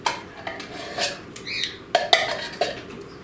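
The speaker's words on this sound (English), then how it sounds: "So I scooped out the, let's say 20 ounces of the cherry pie filling" A spoon scrapes and taps against a can and bowl while cherry pie filling is scooped out, making several irregular clinks and soft wet scrapes, close and clear with no talking.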